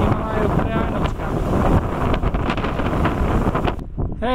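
Strong wind blows steadily and loudly in the Indian Himalayas, a continuous broadband roar with gusty buffeting against the microphone, filling the whole stretch before dropping off abruptly near the end.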